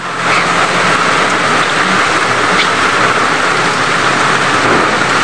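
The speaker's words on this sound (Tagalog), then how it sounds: "Yan o, lakas ng ulan." Loud, steady rain pours down continuously, a dense hiss with no pauses and no voices.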